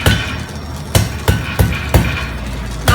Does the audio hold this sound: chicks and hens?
no